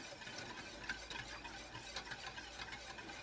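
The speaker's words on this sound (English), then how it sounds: "And now it's important to stir." Cheese fondue stirred in a pot over medium heat, a quiet continuous scraping and swishing with faint soft ticks, low-level and steady with no talking.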